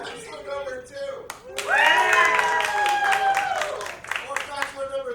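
Improv show audience claps and cheers to vote for a bachelor contestant, a loud burst of applause rising after a brief pause and holding for a few seconds, with a host's voice talking before and over it.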